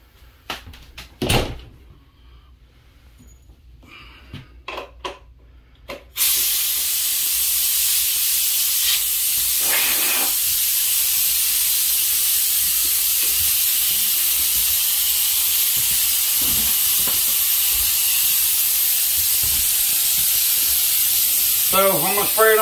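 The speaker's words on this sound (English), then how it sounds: "So I'm going to spray it on this wall." Hopper gun spraying knockdown texture mud onto an interior wall in a cottage guest room, a loud continuous hiss that starts after a few seconds of quiet clicks and handling and then runs unbroken to the end.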